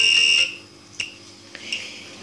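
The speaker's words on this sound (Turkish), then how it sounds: "Aradığı anda cihazın hatta çalmadan önce nasıl alarma geçtiğini görüyorsunuz" A radiation detector's high-pitched electronic alarm tone sounds steadily for about half a second, then stops, followed by a few faint clicks and soft beeps.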